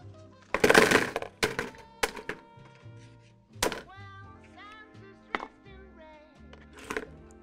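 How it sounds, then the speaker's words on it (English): Whole eggs, shells and all, are dropped into a mocktail mix, giving several sharp cracks and knocks followed by scattered sloshing and clinking, loud and close. "Step two, add the eggs."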